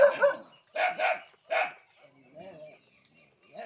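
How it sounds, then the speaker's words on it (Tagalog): Several dogs left unattended near a hut bark noisily in short bursts, some loud and close, others fainter and farther off, with a few yips between them in a rural outdoor setting. "yung mga alaga nilang aso maingay kasi walang bantay"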